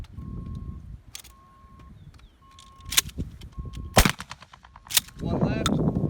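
Shotguns fire at a trap and skeet range, several sharp, loud blasts spaced a second or so apart, some close and some more distant, with voices and shuffling in between.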